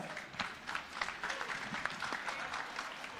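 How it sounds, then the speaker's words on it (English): Audience applause fills an awards ceremony hall during a performance contracts event, steady dense clapping sustained throughout without any break. "big round of applause, Advocate Mugadza."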